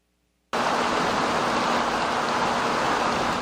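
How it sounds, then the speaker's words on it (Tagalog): Heavy rain pours down in Albay, the Philippines, as a sudden, dense, steady roaring wash begins after a moment of silence and continues loudly and evenly, with no voices. "Pabugso-bugso ang buhos ng malakas na ulan sa ilang bahagi ng Albay kaninang umaga."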